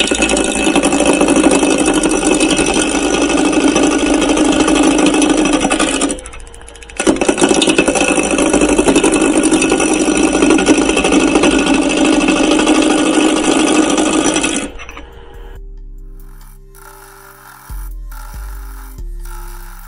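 A wood lathe spins at steady speed as it is brought up to 800 RPM, a continuous loud whirring hum that cuts out briefly, resumes, then stops, leaving quiet knocks at the end.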